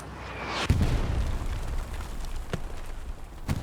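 Artillery shells land in Hell Let Loose, the World War II shooter, with a heavy boom near the start, then two more thumps over a low, rumbling battlefield bed, fairly distant and muffled.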